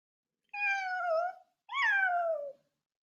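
A cat meows twice, two clear, drawn-out calls separated by a short pause against complete silence.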